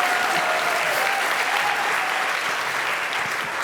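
Dense, steady audience applause fills the hall at a youth entrepreneurship competition's closing ceremony, loud and unbroken throughout.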